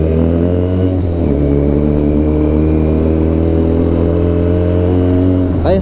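Benelli TNT300 inline-twin motorcycle with an Ixil full-system exhaust, idling and revving steadily up close, its loud, constant engine drone turning raspy with a rising blip near the end.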